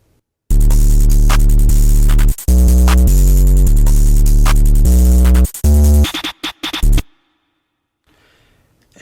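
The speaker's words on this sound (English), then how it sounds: "now I'll play all the drums together" A full programmed drum beat made in FL Studio plays loud and steady, kick and snare hitting in a repeating pattern with cymbals, then cuts off near the end, leaving near silence.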